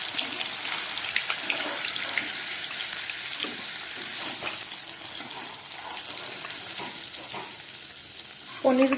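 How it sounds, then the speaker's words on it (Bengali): Paneer pieces frying lightly in hot oil in a wok, a steady close sizzle with occasional stirring scrapes and clinks running throughout, no talking. "এবার পনিরগুলোকে আমি একটু হালকা করে ভেজে দিচ্ছি"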